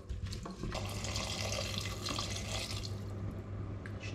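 Water poured into a cooking pot on a stove, a steady splashing and running flow that lasts throughout at a fairly constant level with no talking.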